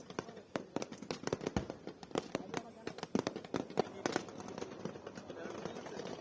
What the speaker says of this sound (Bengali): বেয়নেট চার্জ করার আগে টেস্ট ক্লিয়ার করতে সৈন্যরা গ্রেনেড নিক্ষেপ করছে